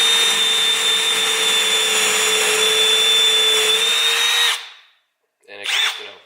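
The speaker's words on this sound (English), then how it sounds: "So with the drill, you know, you put it in the wood" A Milwaukee drill bores into wood with a loud, steady high-pitched motor whine. It winds down and stops partway through, then a short second burst follows after a brief silence.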